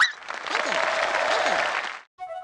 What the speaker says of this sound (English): Am I mistaken, or is that Christina Crawford you can hear cheering in the background?